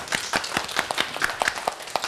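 Children at a kindergarten clap together in short, sharp bursts, a quick rhythmic pattern of claps at moderate volume with little talk.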